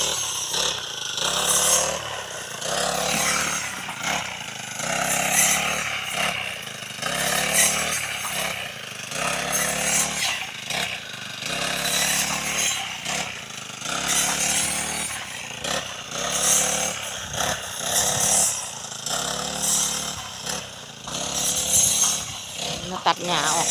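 A brush cutter roars steadily while trimming grass along the dikes of a rice field, its motor rising and falling in repeated surges throughout, close and loud.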